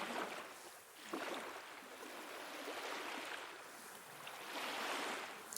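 Gentle sea waves wash in the background, a soft, distant surf that swells and recedes in slow cycles, with no voices.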